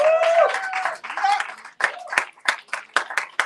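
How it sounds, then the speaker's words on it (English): Brief audience clapping for Pastor Tunji at a church revival workshop, following a voice at the start; a handful of distinct, sharp claps ring out near and unevenly before fading. "A round of applause, please"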